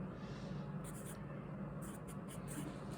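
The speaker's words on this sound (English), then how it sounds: "I'm going to write this a little reverse here" Pen or marker scratching across a surface while a math problem is worked out, a faint, steady scribble in short repeated strokes in a quiet room, with no talking.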